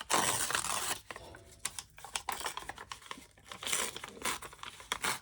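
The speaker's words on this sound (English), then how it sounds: "Tear a bit off both sides, I think." Paper is torn from a journal notepad up close, with short rips and crinkly rustles in quick irregular bursts, fairly quiet and without talk.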